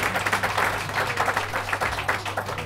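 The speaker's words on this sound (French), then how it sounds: "On va applaudir pour M. Salif Ouedraogo de la maison de Burkina." An audience at a Miss B launch event claps steadily for M. Salif Ouedraogo, a dense, continuous patter of many hands that is moderately loud and runs throughout without voices on top.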